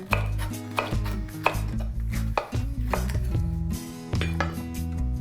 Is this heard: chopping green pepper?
yes